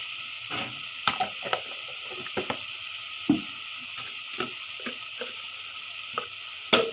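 Ginger garlic paste fries in a pan for a shrimp dish, a low continuous sizzle broken by frequent scraping and tapping stirs, close and without voices.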